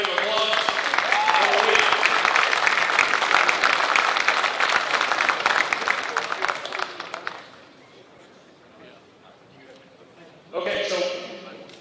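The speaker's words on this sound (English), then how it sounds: "Can we give these guys a big round of applause?" Sustained loud applause for the teams at a construction trades competition, steady for several seconds before cutting off. Quiet follows, then a voice speaks near the end.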